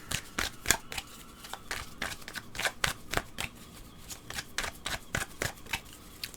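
Iris oracle cards shuffled by hand, a rapid series of crisp riffling flicks close up, repeating in quick irregular bursts with no talking.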